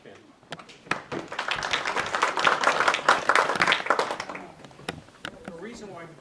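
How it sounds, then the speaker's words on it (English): Audience at a monthly meeting applauding, a dense round of clapping that swells and fades over several seconds, with scattered claps at the edges. "The reason why we do a lot of clapping is to make people feel like, with family, their community."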